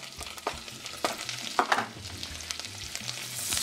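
Diced onions and celery with their leaves sauté in butter in a pot for oyster stew, giving a close, steady sizzle broken by several sharp stirring scrapes and clinks.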